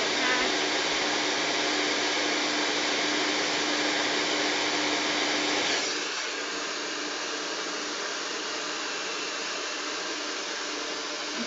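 A hairdryer blows steadily at close range during a brush blow-dry, a loud even whirring hiss that drops to a lower setting about halfway through.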